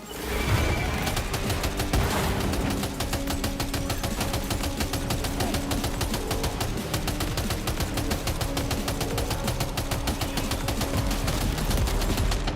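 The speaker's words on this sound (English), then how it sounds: "Where's that machine gun?" Rapid, sustained machine gun fire in the video game Death Stranding 2, a dense unbroken stream of close, loud shots with booming impacts, continuing for over ten seconds.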